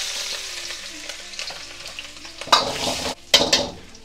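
Garlic and ginger sizzle in hot oil in a kadai while veg Manchurian is being made, a steady crackling hiss broken by louder bursts of spatter and stirring clatter near the end.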